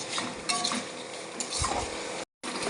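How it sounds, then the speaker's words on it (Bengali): Masala for a katla fish curry fries in oil with a steady sizzle while a utensil scrapes and clinks against the pan in a few close stirring strokes, briefly cut to silence near the end. "এবার খুব ভালো করে নাড়িয়ে নেব"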